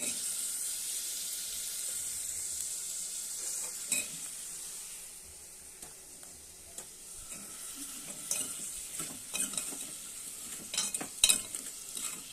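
Eggplant pieces fry in a pan, giving a steady, moderate sizzle with intermittent clinks and stirring scrapes that grow busier toward the end. No voices.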